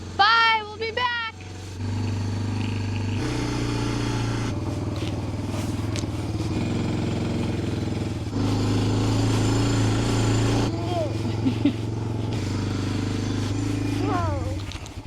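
A small engine at an off-grid cabin in winter runs steadily after starting on the first pull, a loud continuous drone with shifting pitch, while people talk and shout excitedly over it and birds chirp now and then.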